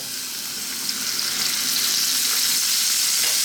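Beef sizzles in hot sunflower oil in a wok for a Chinese beef-and-onion stir fry, a steady close crackle that builds slightly louder and stays dense throughout, with no talking.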